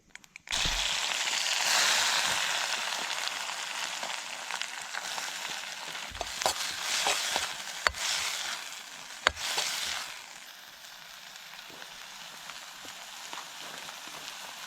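Chicken with a little garam masala frying in a pan over a wood fire at an outdoor campsite, a loud sizzle that starts abruptly, then settles with occasional pops and stirring knocks.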